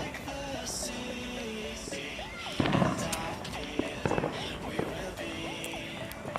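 Fireworks at a New Year's Eve show pop and boom in scattered bursts at a distance, over a steady wash of background noise and nearby voices talking.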